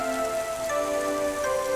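Heavy rain pours steadily at night in a cartoon story scene, a dense continuous hiss of drops on surfaces with a faint tonal musical drone underneath, no voices.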